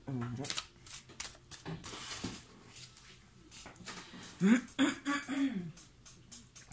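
Tarot cards are shuffled and drawn by hand, giving close papery riffles and soft slaps that come in short bursts under a spoken voice, with a throat clearing heard along the way.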